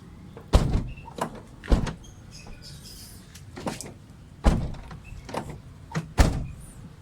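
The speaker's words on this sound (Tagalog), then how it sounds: "testing natin mga sir dito sa pinto sasara natin sa pinto" Car door on a Toyota Revo being shut several times, producing sharp, loud thuds spaced irregularly with quieter latch clicks between them, close to the listener.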